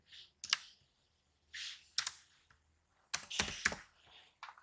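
Computer keyboard typing while entering a degree symbol in an Excel sheet: several short clustered bursts of crisp, close key clicks separated by brief pauses, with no speech.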